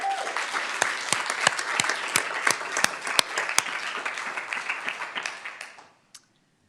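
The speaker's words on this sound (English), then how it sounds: "And help us cheer on Arlene" Applause and clapping from an audience at a school district Board of Education meeting, honoring a Teacher of the Year; steady, fairly loud crowd clapping with sharp individual claps, lasting about six seconds before stopping abruptly.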